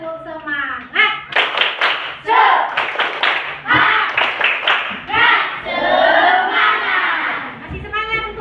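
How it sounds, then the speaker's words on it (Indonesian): A school class performs rhythmic spirit clapping (tepuk semangat), patterned bursts of hand claps interleaved with loud children's chanting and shouting in unison, close and energetic. "Nah, sekali lagi tepuk semangat dulu lah."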